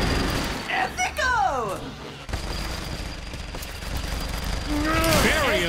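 Gunfire rattles in the open-world crime game Saints Row: The Third, a busy mix of shots and whooshing, gliding effects under an excited commentator's continuous talk.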